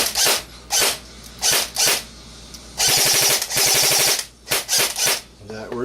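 A Tokyo Marui M14 SOCOM version 7 airsoft gearbox fires on battery power, giving loud, close bursts of rapid mechanical buzzing cycles: several short bursts and one longer run, with pauses between them.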